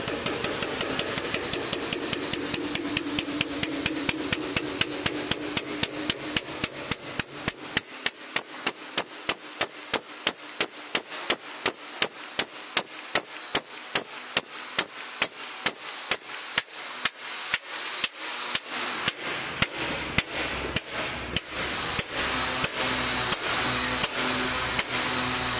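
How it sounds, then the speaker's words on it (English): A 75-ton gray air-over-hydraulic H-frame press runs with rapid, evenly spaced sharp knocks, like a pneumatic pump stroking, that continue over a background hiss and slowly change in pace and tone. "75-ton gray H-frame pneumatic press"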